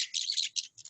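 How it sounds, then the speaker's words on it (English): Birds in the jungle chirp and tweet in dense, rapid high-pitched bursts, close and fairly loud, with no voices present. "the birds are very noisy"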